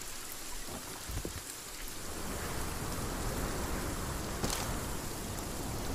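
Steady rain falling in the survival video game Sons of The Forest, a continuous hiss of drops that thickens after the first couple of seconds, heard alone without voices.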